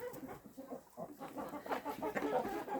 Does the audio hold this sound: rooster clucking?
yes